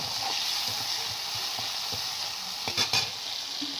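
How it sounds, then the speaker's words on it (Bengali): Sliced onion frying in mustard oil in a wok gives a steady close hiss and sizzle, with a spatula stirring and scraping and a brief louder clatter near the end. "পেঁয়াজটা একটু খুব ভালো করে আমি ভাজা ভাজা করে নেব।"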